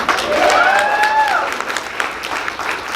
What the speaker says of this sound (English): I'm going to let you clap for every one of them